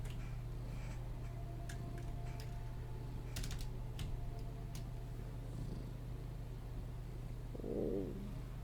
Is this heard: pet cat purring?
yes